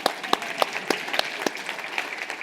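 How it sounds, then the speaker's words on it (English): A small audience claps sparsely at a tech demo of PC apps, a few distinct hand claps spaced out over a steady room murmur, fairly near and moderately loud. "Yes, you can clap."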